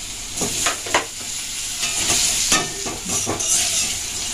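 Diced potato added to whole cumin in hot oil in a pan, a steady close sizzle with scraping stirring strokes at irregular intervals, no talk.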